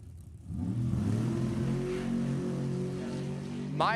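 Funny car drag racing engines, each a 780 cubic inch motor, rumble loudly at Sacramento Raceway in a sustained, steady roar with strong low harmonics, ending in a brief rising rev near the close.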